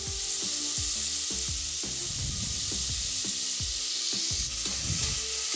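Cut potato and brinjal sizzle steadily in hot oil in a pan, a loud continuous frying hiss with repeated stirring clatter throughout and no voices.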